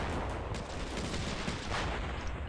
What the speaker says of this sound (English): this looks like it's just generic Mark 19 fire